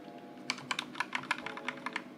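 Keystrokes on a newly unboxed keyboard with lit keys and a wrist pad, a quick irregular run of crisp clicks, close and fairly loud, with no talking.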